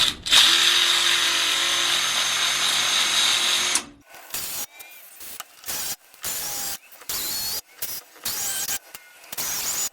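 A repaired 1/4 inch impact driver whirs loudly and steadily for a few seconds, then fires in a series of short, choppy bursts with brief silences between them, close up and with no talk.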